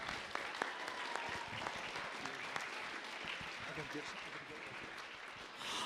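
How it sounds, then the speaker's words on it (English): A crowd claps steadily and warmly for several seconds at a high school robotics competition, dense applause filling a large room. "Give yourselves a huge round of applause."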